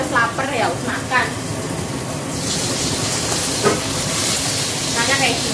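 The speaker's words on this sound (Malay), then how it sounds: "Terus ini kamu masih goreng ikan" Fish fries in hot oil with a broad, steady sizzling hiss in a home kitchen, loud and close, while people talk over it at the start and intermittently.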